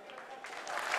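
Applause building at the ISRO mission control room during the Chandrayaan Moon landing broadcast, a faint clatter of clapping that grows louder toward the end.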